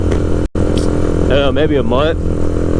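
A Honda Grom motorcycle with a new chain and sprockets rides along a beach, its engine droning loud and constant throughout while someone talks over it.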